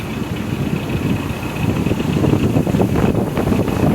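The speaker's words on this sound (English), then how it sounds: "The wind suddenly caught me." Gusty wind buffets the microphone aboard a narrowboat cruising a canal from Llangollen toward Chirk, a loud continuous rumble that swells toward the end over a low engine drone.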